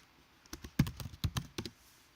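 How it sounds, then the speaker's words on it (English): Typing on a computer keyboard during a web search: about a dozen quick, close key clicks in short uneven bursts, quiet and alone with no talking. "So by typing March and maple,"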